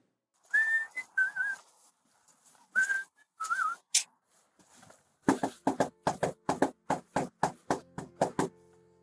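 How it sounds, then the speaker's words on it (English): A police officer whistles a short, bouncy tune with sliding notes, then a series of rhythmic knocks rap out steadily on a house door. "the officer is whistling a jaunty tune"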